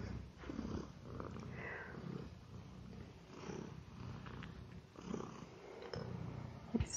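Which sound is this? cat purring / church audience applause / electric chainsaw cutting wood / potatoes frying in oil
cat purring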